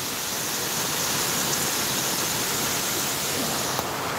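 Continuous broadband wash of sea waves breaking near the shore, steady and enveloping with no distinct individual crashes, no voices.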